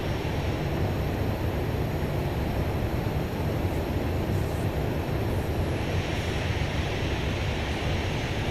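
Jet engines of a Luxair Boeing 737-800 taxiing in the X-Plane 12 flight simulator, a steady, dense broadband roar with a constant low rumble and hiss, holding level throughout with no talk.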